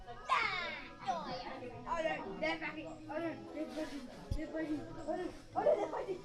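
A small dog yaps a few times amid excited chatter and children's voices, with people talking close by throughout.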